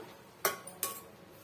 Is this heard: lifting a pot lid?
yes